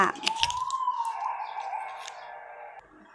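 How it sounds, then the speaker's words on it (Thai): An ambulance siren passing by outside, a loud wailing tone that rises and sweeps across the whole stretch before cutting off near the end, with faint birdsong and background noise around it. "โอเครถพยาบาลผ่านอีกแล้ว"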